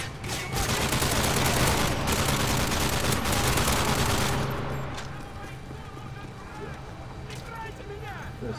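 Rapid automatic gunfire bursts fill a War of the Worlds USA vs Russia video game battle, loud dense rattling for several seconds then easing to scattered, softer shots.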